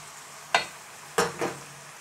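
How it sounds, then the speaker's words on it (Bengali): Pasta with vegetables, meat and tomato sauce fries in a pan under a soft sizzle, broken by three quick scraping stirs of a spoon against the pan, close and distinct. "আমি পাস্তা সসের সাথে ভালো করে মিক্সড করে নিচ্ছি"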